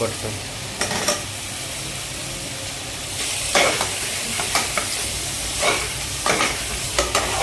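Chopped vegetables, including bottle gourd and sweet potato, stirred into hot frying masala for an Andhra-style pulusu: a loud, continuous sizzle broken by repeated scraping stirs and bursts of hiss, close up with no talk.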